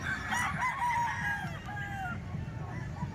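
Gamefowl roosters at a sale, one crowing clearly in a long cock-a-doodle-doo, with another following, over a busy, noisy outdoor background.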